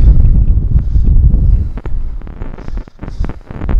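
Gusty wind buffets the microphone on an open golf course, a loud low rumble that rises and falls, with a few brief knocks and rustles toward the end.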